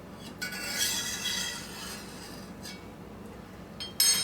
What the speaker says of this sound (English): I'm going to take a knife and run around the edges of the skillet